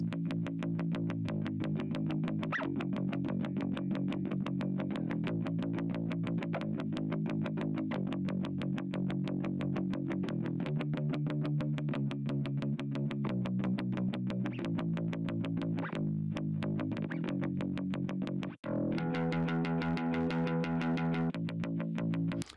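A continuous electric bass guitar line plays through an expander on default settings, its notes sustained and slightly processed, with a brighter higher passage near the end.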